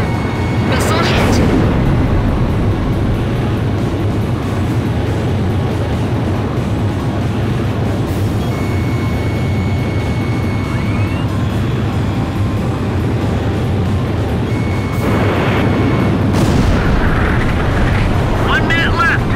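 A missile strikes its target with a loud, sustained rumbling explosion during an aerial combat mission in the video game Ace Combat 5, surrounded by constant roaring engine noise and brief sharp bursts near the start and end.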